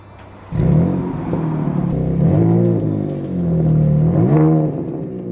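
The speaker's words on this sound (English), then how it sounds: "This one behind me has an active exhaust, and honestly, it doesn't sound too bad." A 2026 Dodge Charger Scat Pack Sixpack with active exhaust idles with a deep exhaust burble, then revs up and down several times, loud and close, rising and falling in pitch.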